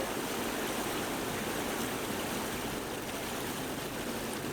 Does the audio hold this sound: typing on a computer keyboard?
no